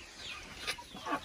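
Two short bursts of hen clucking, fairly faint, over a quiet background hiss.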